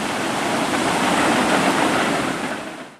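A train passes on a nearby track beside a pay fishing lake, a steady loud broadband rumble that holds throughout and fades out at the end, with no talking.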